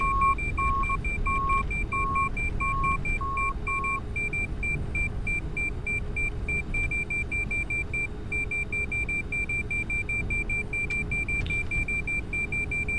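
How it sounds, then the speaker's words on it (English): An inner marker beacon beeps in a Boeing 747 flight simulator cockpit: a fast, steady, high-pitched pulse runs for the full length over constant engine and cabin hum, with a separate lower beep series in the first few seconds. "There's the incessant inner marker beeping,"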